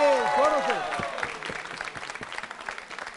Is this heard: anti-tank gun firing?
no